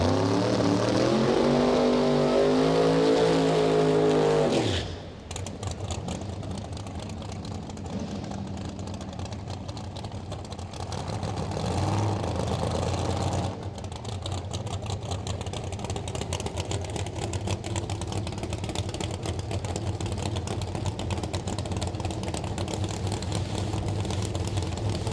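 Ritchie Racing Engine Chevy Chevelle drag car in the burnout box at a test-and-tune drag strip: a loud rising rev that cuts off abruptly, then a rough, thundering idle and throttle blips rumbling close and continuous.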